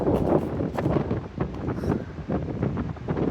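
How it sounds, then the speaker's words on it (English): Wind gusts on a snowy stretch of the Pacific Crest Trail buffet the microphone in rough, irregular rumbling bursts that rise and fall over a few seconds. "wind gusts."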